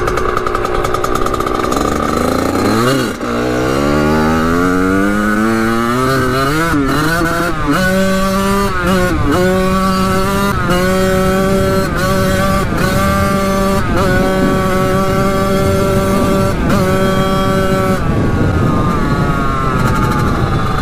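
Kawasaki KX80 dirt bike engine revving loudly while riding, pitch climbing steeply then holding a high buzzing whine with repeated brief dips as the throttle is worked, close and continuous throughout.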